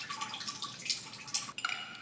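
Hot water trickles and drips into a cup to steep barley tea, a light continuous splash with a few distinct drips near the end; no one speaks.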